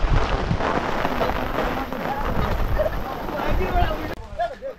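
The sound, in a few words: heavy rain and storm wind during Cyclone Remal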